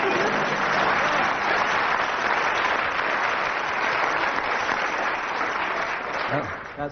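Studio audience applause on a British radio comedy panel show, a dense, even wash of clapping that holds steady for several seconds and tapers off at the end, with a brief voice near the close.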